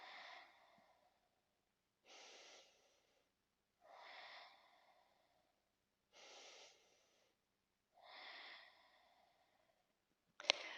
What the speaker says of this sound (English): And we'll take 5 nice deep breaths here.